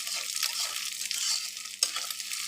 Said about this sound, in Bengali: আমরা নুডলসে যেভাবে ডিম খাই ঠিক সেভাবে ঝুড়ি করে দিচ্ছি